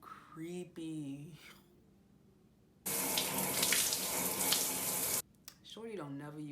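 Shower water runs steadily in a movie scene, a dense, loud hiss lasting a couple of seconds, with speaking voices just before and after.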